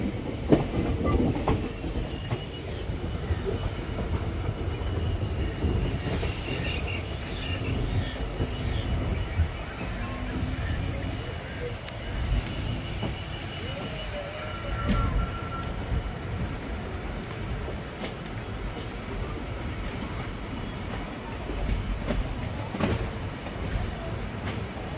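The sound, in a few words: Tambaram to Rameswaram train passing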